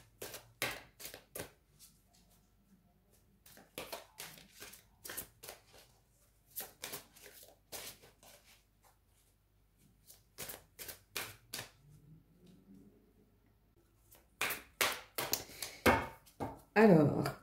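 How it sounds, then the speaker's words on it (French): Oracle cards handled and drawn from a deck, a series of sharp, quiet flicks and taps in irregular bursts separated by pauses, with a denser run of card snaps near the end and faint talk in places. "on va prendre une dernière carte des esprits de la forêt"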